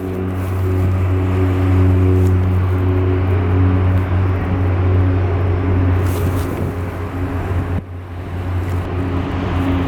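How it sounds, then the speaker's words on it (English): A FedEx biplane passing near the Portland airport gives a steady, loud propeller-engine drone with a strong tonal hum that holds throughout, dipping briefly near the end. "there goes our FedEx biplane"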